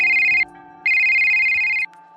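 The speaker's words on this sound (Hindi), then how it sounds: "तभी उसका फोन बजता है।" Phone ringing with two long electronic rings, each about a second, separated by a short pause, loud and close, with no voices.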